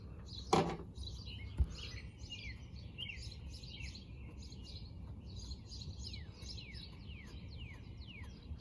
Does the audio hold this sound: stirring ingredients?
no